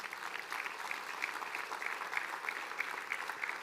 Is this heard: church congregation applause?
yes